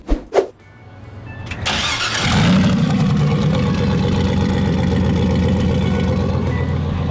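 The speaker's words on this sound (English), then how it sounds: "All right, so Volvos are not supposed to sound like this." A turbocharged LS-swapped lifted Volvo wagon: a couple of sharp clicks, then the engine cranks, catches and settles into a loud, steady, deep running rumble that continues to the end.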